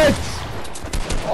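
Video game gunfire, a quick spatter of several sharp shots in close succession, with a voice present alongside.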